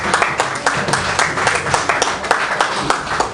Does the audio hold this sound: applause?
yes